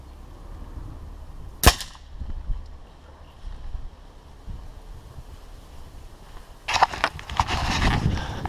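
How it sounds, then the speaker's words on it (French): A Black Ops Sniper Tactical 4.5mm air rifle, rated at 20 joules, fires a single sharp shot into a 12 kg lead plate. A lone crack stands out early, followed by rustling and handling noise, with no talk. "je vais tirer à la droite de l'autocollant pour pouvoir le récupérer"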